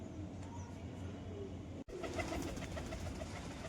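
Pigeons coo steadily in a low, soft murmur, close by, with a brief gap partway through before the cooing resumes.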